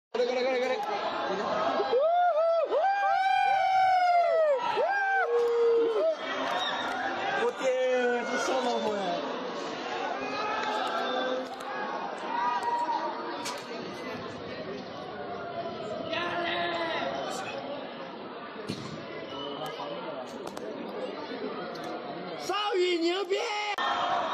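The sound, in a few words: students shouting loudly from a dormitory building at night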